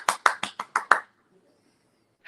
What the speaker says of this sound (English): big round of applause to my boy OZ